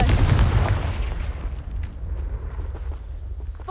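Confringo fire spell blast in the Hogwarts Legacy video game: a loud, booming burst at the start that rumbles and decays into a low roar over several seconds.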